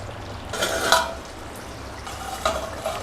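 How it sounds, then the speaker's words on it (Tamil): Chicken leg gravy simmering in a pan, with a soft bubbling sizzle under brief stirring scrapes and utensil clinks, close and moderately loud. "நல்லா கொதிக்க விடுங்க."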